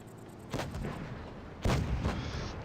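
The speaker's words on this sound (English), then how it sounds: "Campon gets a good shot in, but he's a one-shot now." Tank cannon fire in World of Tanks Blitz during a tournament match: two sharp booming shots roughly a second apart, the second louder and nearer, with game ambience between them.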